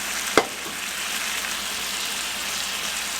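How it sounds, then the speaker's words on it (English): Chicken broth is ladled into risotto rice in a pan, giving a steady broadband sizzle and bubbling throughout with one brief sharp splash near the start. "we're going to add in just a couple of ladlefuls of this chicken broth"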